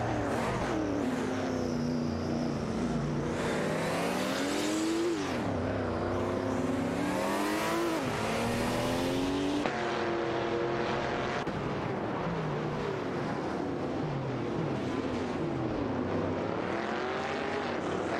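A Cheetah GT and a Nissan Skyline 2018 RR race in a video game, their engines revving and sweeping up and down in pitch through gear changes, loud and continuous with overlapping cars close by.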